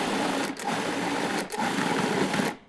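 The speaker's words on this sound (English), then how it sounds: "Okay, I'm just going to puree this all together." A blender purees tomatoes, garlic, red onion and peppers for a cold salmorejo soup, roaring loud and steady with two brief dips in the motor whine before it cuts off.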